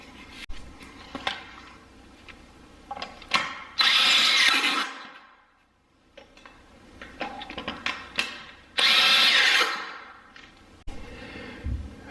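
A power drill drives screws into a concrete basement floor to fasten cabinet cleats, heard as two loud, roughly one-second bursts of whirring separated by quieter scraping and clatter, close by.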